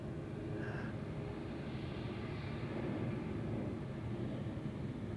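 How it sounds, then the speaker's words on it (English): An Embraer 190 airliner arriving to land at Schiphol's Polderbaan runway, passing about 200 meters away, gives a steady, fairly faint broadband jet roar that swells slightly midway and holds throughout, with no voices. "Embraer 190 arriving from Berlin, an hour underway."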